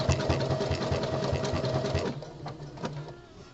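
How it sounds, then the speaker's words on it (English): A home sewing machine running a honeycomb stitch for topstitching a boxer brief body panel. The close, steady motor hum drops off partway through, leaving a few quieter mechanical clicks. "And I'm doing this on a home sewing machine."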